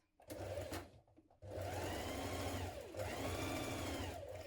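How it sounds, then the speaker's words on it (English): A sewing machine runs in two steady bursts stitching down a skirt hem for a tiered dress, close and loud, with a short pause between runs. "Now sew to the bottom of your skirt."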